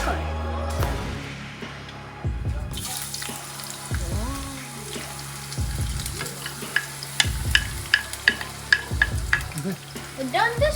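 Shrimp fritters (okoy) sizzle and crackle in hot oil in a pan, steady frying hiss with repeated scraping stirs and sharp pops near the end, close up and loud, no talking.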